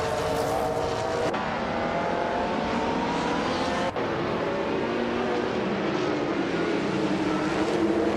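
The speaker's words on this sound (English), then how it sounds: "driving a classic 1990 Mercedes 190e Evo 2" A 1990 Mercedes 190E Evo 2 races in a video game, its engine a continuous loud drone with steady pitch shifts, broken by two quick gear-change dips.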